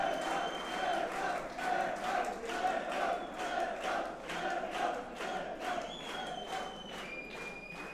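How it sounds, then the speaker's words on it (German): An audience at a fight event roars and cheers continuously in a large arena, a dense wash of voices with rhythmic swells and scattered whistles, heard at a distance. "Und das Publikum, das ist da."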